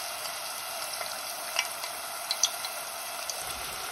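Batch of food frying in hot oil, a steady broadband sizzle throughout with a few small crackling pops, close and fairly quiet, no talking.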